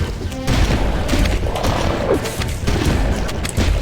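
Shotgun fire in a Halo-style video game: a rapid, dense run of loud booming blasts and crashing impacts that keep going with hardly a pause.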